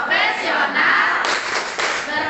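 Group rhythmic clapping chant at a teachers' gathering, a crowd's patterned claps and shouted cadence loud and close, dense bursts continuing without pause.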